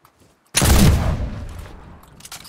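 A single heavy shotgun blast in a video game, loud and close with a sharp onset and a long booming decay, followed by faint scattered pops in the background.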